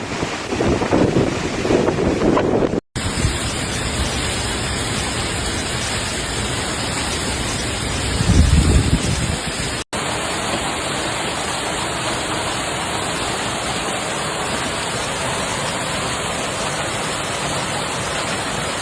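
Strong, steady storm wind in Berlin roars against the microphone with a constant rushing noise, briefly surging louder.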